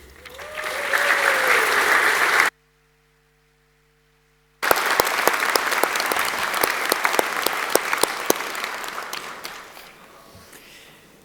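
Audience applause at a university graduation ceremony in Auckland, a steady dense clapping that breaks off into brief silence, then resumes with sharp individual claps before fading out.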